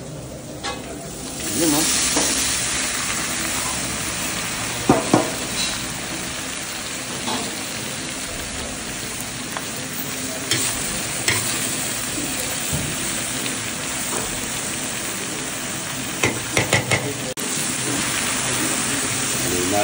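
Taro (gabi) drops into a hot frying pan for laing with smoked pork and chili, setting off a loud, steady sizzle with scraping stirs and occasional clanks close by, while a voice speaks briefly.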